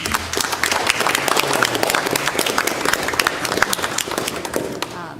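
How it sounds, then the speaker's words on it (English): Audience applause at a county commission meeting, a dense, steady burst of many hands clapping from start to finish, with some voices mixed in. "if you would indulge me with a round of applause for these people"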